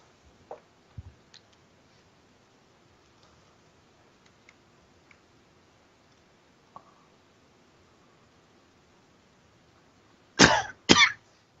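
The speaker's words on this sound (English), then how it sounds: "Excuse me for the cough, by the way." A man at his desk gives two sharp, close coughs near the end, after a long quiet stretch broken only by faint mouse and keyboard clicks and a small earlier throat sound.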